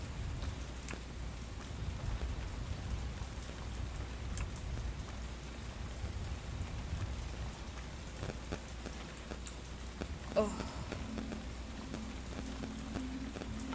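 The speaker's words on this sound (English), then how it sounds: "I love how incredibly loud this rain is" Heavy rain in an itch.io video game pours in a steady, dense hiss, with faint scattered taps and a couple of sharper clicks, and a player makes a brief vocal sound partway through.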